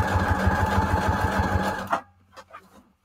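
A sewing machine stitching through the paper pages of a junk journal signature, a loud steady rapid motor whir that stops abruptly, followed by a few faint clicks and handling sounds.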